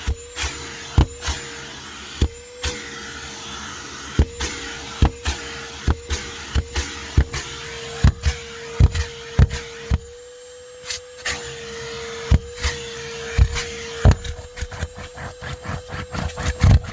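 A Ridgid dual 18-volt cordless shop vacuum, model HD0918, runs with a steady mid-pitched motor whine, close and loud, punctuated by repeated sharp knocks and clatters as debris or the hose bumps along.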